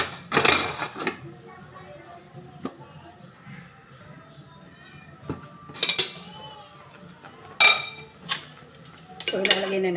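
Metal pot lid clanks down onto a cooking pot of Bicolano crab in coconut milk in a home kitchen, several sharp clinks spread across a quiet stretch with light background noise.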